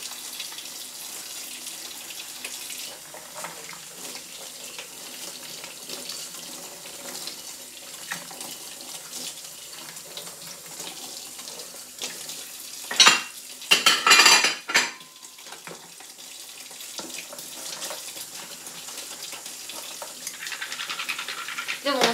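Dishes being washed under a running tap in a home sink, with steady water flow, occasional clinks of tableware and a louder splashing burst midway, under faint speech.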